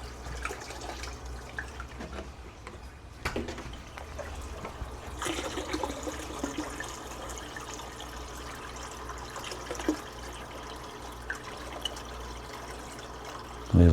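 Fresh water pouring and trickling steadily into a cucumber planting bed, a continuous liquid splash and dribble with a few louder splashes, close and alone with no talking.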